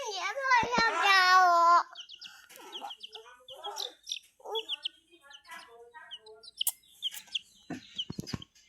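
Chickens cluck and a rooster-like call rings out near a shop, a loud drawn-out squawk first, then scattered short clucks and chirps alongside a voice.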